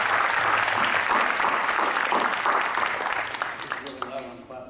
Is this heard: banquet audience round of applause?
yes